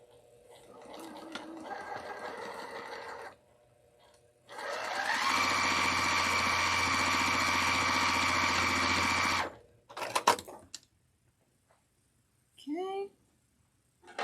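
A sewing machine stitches two quilt fabric units together in a sustained whir of about five seconds. Shorter runs come before and after it, and a voice talks around the stitching.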